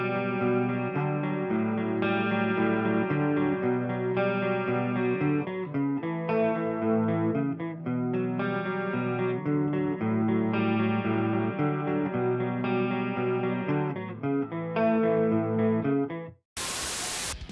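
A heavily distorted electric guitar tone plays a riff through an amp rig with IR setup, a dense, continuous, loud chugging part with rhythmic chord changes, cutting off abruptly near the end.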